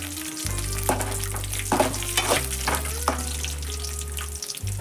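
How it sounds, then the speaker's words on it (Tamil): Chillies hiss and sizzle in hot oil in a pan while being stirred, with steady frying noise under repeated scraping stir strokes, close and moderately loud, for a Kerala-style beef roast. "அப்படியே மொத்தமாக கிளறி"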